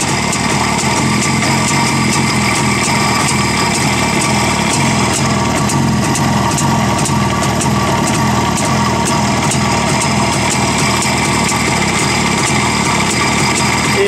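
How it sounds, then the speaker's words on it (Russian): A ČZ (Cezet) 350 Typ 472.5 motorcycle engine runs steadily at a fast, buzzing idle, close and continuous throughout with no voices. "Ребят, сейчас мы будем заводить этот ЧЗ прекрасный. Слышите, как работает?"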